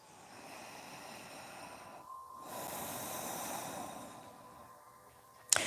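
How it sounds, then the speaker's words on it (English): Soft nasal breathing from someone holding a yoga prayer posture, hands pressed at the chest, with slow airy inhales and exhales at low level and a short sharp snort-like sound at the end. "breathe through your nose"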